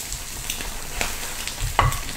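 Garlic fries for a Penang oyster omelette, sizzling softly and steadily in the pan while it is stirred, with a sharper crackle of frying toward the end.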